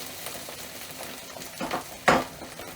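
A spoon stirs red lentil dhal mixture in a pot, with soft scraping and a few louder clinks against the side near the end, no talking.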